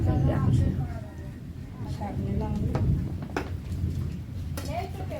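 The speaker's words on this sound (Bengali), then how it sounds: "ভীষণ জোরে জোরে মেঘ ডাকছে" Heavy thunder rumbles low and steadily throughout, fairly loud, while a person talks over it in a kitchen.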